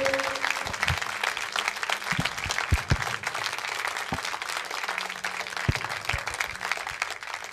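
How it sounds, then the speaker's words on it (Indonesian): Audience applause for Heru Purwanto, a representative of a herbal tea product, at a live event: steady, dense clapping from a sizable crowd that holds throughout, with a few sharper individual claps standing out near the front. "Tepuk tangan meriah buat Heru"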